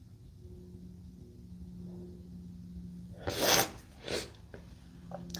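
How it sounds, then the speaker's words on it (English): A person sniffles close to the microphone: two sharp nasal sniffs in quick succession break a quiet room with a low background hum. "I apologize so much for the sniffles, y'all."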